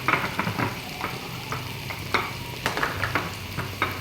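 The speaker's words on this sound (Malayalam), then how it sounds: "ചെറുതായിട്ടൊന്ന് ഇളക്കി കൊടുക്കാം" A spoon stirs chopped tomato frying in a pan for mushroom biryani, with steady sizzling and repeated scraping strokes close by, no talking.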